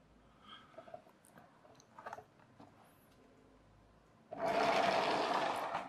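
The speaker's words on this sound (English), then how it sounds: "Plenty of wheel spin that time." A homemade tissue-box car powered by a wound rubber band spins its wheels in a loud, steady whirring rattle that starts abruptly and keeps going, with quieter small clicks and handling noises before it.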